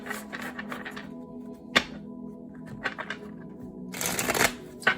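Tarot cards are shuffled close by in quick riffling bursts and soft slaps, ending in a dense flurry of card noise.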